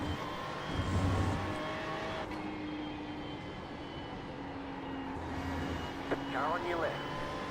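In an IMSA sim race at Watkins Glen, a race car's engine note rises and sweeps past during the 6-hour practice, over the player's own steady engine drone, with someone talking over it.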